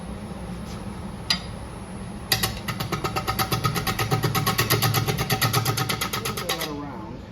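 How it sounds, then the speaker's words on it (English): Wood lathe spinning a bark and wood piece while a sharp bowl gouge cleans up the edge, a low motor hum under rapid rhythmic tapping cuts that rise in the middle and then stop. "I'm going to come at it with just a nice sharp bowl gouge,"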